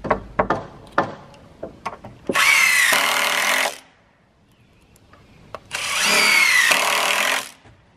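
Power drill driving GRK structural screws into wood during garage roof framing, two sustained bursts of about a second and a half each, loud and close, with scattered knocks and handling sounds before them.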